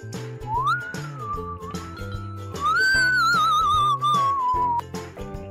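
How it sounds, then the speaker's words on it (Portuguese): The Saci whistles in a Turma da Mônica animated cartoon, a bright, sliding melodic whistle rising and wavering over steady background music. "De repente, do nada, ele assobiava e deixava quem estava passando por lá morrendo de medo."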